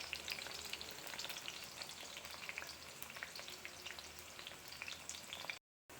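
Onions and green chilies sauté in a pan, a dense, even crackling sizzle with faint stirring underneath, close and steady until a sudden cut to silence near the end.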